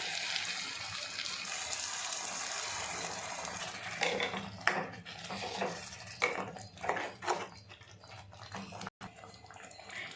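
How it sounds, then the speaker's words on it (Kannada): Water poured into a pan of ridge gourd curry with masala, a soft continuous trickle and gush that turns into intermittent splashes and stirring sounds, close and fairly quiet, with no talking. "ಈಗ ಸ್ವಲ್ಪ ನೀರು ಹಾಕ್ತಾಯಿದ್ದೀನಿ."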